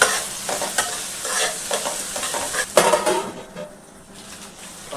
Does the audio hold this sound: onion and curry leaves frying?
yes